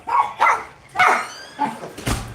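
A dog gives several short, close barks and yelps in bursts across about two seconds, with faint whimpering between them and a soft scrape or thud near the end.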